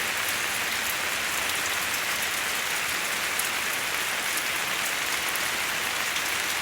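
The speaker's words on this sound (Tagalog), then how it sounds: "Ito po, umuulan sa labas." Rain falls steadily outside, a continuous close patter and hiss of drops on surfaces, unbroken throughout.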